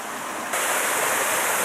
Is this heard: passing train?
no